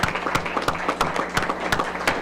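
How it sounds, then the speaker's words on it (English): Applause at a school board meeting greets a newly named National Title I Distinguished School, with scattered individual claps standing out over a steady, moderate patter in an indoor room. "how about that for a round of applause for Fred Assam?"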